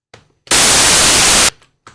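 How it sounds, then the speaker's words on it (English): Steady white noise generated in Pure Data, a loud, flat hiss that switches on abruptly, holds for about a second, then cuts off cleanly, with faint quiet sounds before and after. "that's white noise for you"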